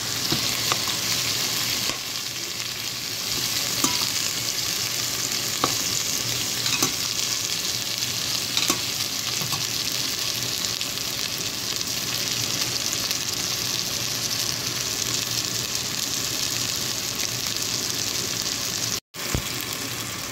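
Chicken pieces and onions sizzle and fry steadily in a pot while being stirred for a Filipino soup, with a constant close hiss and occasional scraping clicks from the spoon.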